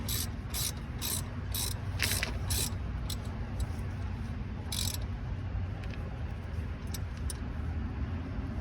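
A ratchet tightening a bolt during a Saab brake pad replacement, quick even clicks for the first few seconds, then sparser single clicks over a low steady background rumble.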